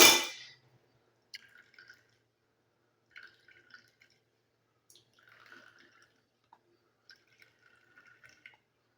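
Juice from squeezed ground paste dripping into a container, heard as a scattered run of small, faint drips and light splashes with a brief louder rustle at the start, with no talking.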